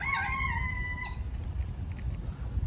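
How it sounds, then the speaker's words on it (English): A Swedish flower rooster crows once, a loud, near call that runs for about the first second with a drawn-out final note, then gives way to low farmyard background rumble. "Axel is a Swedish flower chicken"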